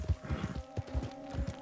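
Horse hooves clip-clop at a steady walking rhythm in Red Dead Redemption 2, close and moderately loud over a faint ambient game hum, with no talking.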